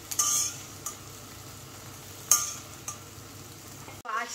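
Beaten egg frying in a pan, cooked fluffy, gives a soft continuous sizzle with a few sharp scrapes and clinks from stirring, close by, ending in a brief louder knock.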